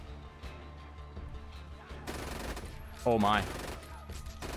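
Sniper rifle shots crack in the video game Borderlands 2, sharp bursts over game noise, with a man's brief exclamation cutting in midway.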